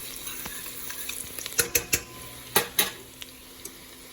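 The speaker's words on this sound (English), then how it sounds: "let your onions saute in the cooking oil in the butter" Onions sautéing in cooking oil and salted butter in a pot, a soft steady sizzle under several sharp clinks and scrapes of a stirring utensil against the pan, close and moderately quiet, with no talking.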